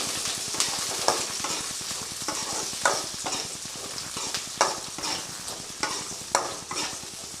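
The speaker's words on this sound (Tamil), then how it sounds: "வெங்காயம் ஒரு 100 கிராம் வெங்காயம் இருக்கும், சின்ன வெங்காயம். அதையும் இது கூட போட்டு வதக்கிக்கலாம்" Small onions, garlic and fenugreek sauté in a pan, a continuous close sizzle with rhythmic stirring strokes scraping the pan roughly every half second.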